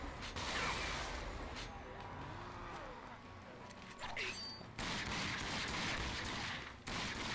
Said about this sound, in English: I hope those explosions hurt him.